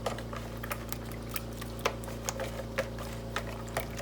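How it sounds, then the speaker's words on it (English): Eggs are whisked in a bowl in a home kitchen, a fork or whisk clicking lightly against the sides in an irregular, steady rhythm over a low background hum. "Break those eggs up, whisk it up really good."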